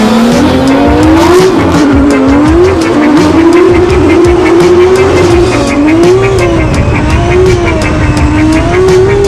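A Formula Drift race car laps a Seattle track during practice, its engine note rising and falling continuously while tires squeal through the drifts, loud and close for the whole stretch.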